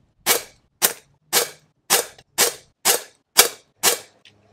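Eight sharp, loud shots from a Benjamin pRod PCP air pistol, fired close at a steady pace about half a second apart, each a crisp crack with a short tail and quiet between them.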